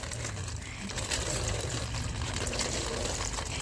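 Water poured out for someone to drink, a steady continuous rush and splash of liquid that holds evenly for several seconds at close range.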